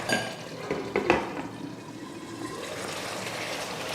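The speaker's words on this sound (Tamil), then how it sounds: "நல்லா கொதிச்சு வெந்துட்டுருக்கு" Chicken gravy boils in a pan on the stove, bubbling and sputtering steadily up close with no voices.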